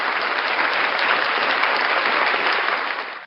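A sustained round of audience applause, full and even at close range, fading out abruptly at the very end.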